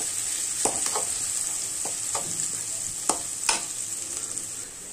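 Onions sautéing in a pan for a meal maker gravy, with a steady close sizzle and several sharp scraping clicks from a stirring spoon, and no one talking.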